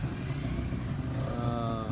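A Honda Shine 125 motorcycle engine after full engine work, idling or running steadily with a low chugging rumble and a slight rising harmonic whine, close and constant.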